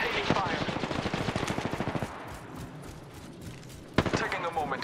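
Rapid automatic gunfire from Apex Legends, a dense burst of shots lasting about two seconds, then a quieter stretch and a second sharp burst near the end.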